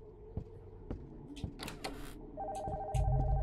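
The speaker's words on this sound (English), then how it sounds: "The phone from upstairs is ringing." A telephone rings in a horror video game set in a house with a basement, the phone upstairs; sharp repeated electronic ring pulses over game ambience with a low rumble swelling near the end, no talk.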